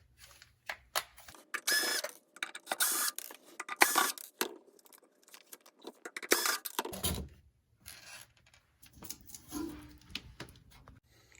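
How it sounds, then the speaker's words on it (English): Screws are driven out of the back cover of a Samsung freezer, likely with a power driver, in several short whirring bursts separated by pauses and light clicks and rattles. "we're gonna just pull some of these screws out to remove this back cover"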